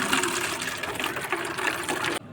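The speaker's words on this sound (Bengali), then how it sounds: "জলটাকে ছেঁকে নেব।" Boiled neem leaf water is poured through a sieve, making a steady close gushing splash that continues unbroken and then stops abruptly.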